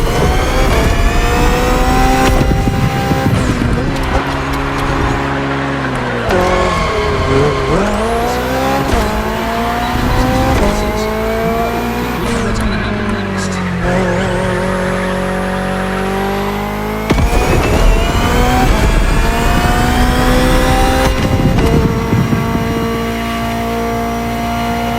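A BMW hybrid V8 race car in The Crew Motorfest video game roars loudly and continuously, its engine pitch climbing and dropping through gear changes and revs with hints of tire squeal.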